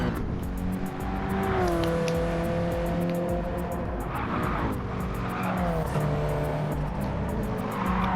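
Alfa Romeo GT3 race cars roar through a racing video game, with a loud, steady engine drone that rises and falls as they shift gears and accelerate, plus brief squeals from the tyres.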